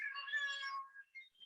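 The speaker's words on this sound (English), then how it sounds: "that's my cat. I don't know if you heard him." A house cat meows indoors, one drawn-out, fairly close cry followed by a couple of fainter short chirps, with no talk over it.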